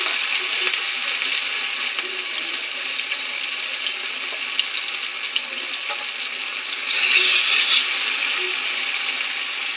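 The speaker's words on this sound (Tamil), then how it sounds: "இப்போது வறுக்க போகிறேன்." Large pieces of marinated fish fry in hot oil with a loud, steady sizzling hiss that swells briefly near the end, with no voices.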